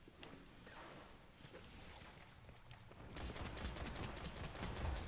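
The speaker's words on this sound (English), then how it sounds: "Shotguns all around in here." Shotguns fire in the Destiny video game, faint and muffled, with bursts growing denser and louder in the second half.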